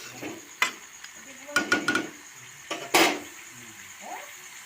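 Vegetables stirred in a pan with a utensil and then covered with a lid: a few sharp scrapes and knocks, a cluster of clattering strokes, and a louder clank near the end over a quiet room.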